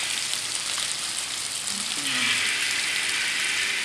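Fish sizzling in hot oil in a pan, a steady close hiss of frying that swells slightly midway, with no talking.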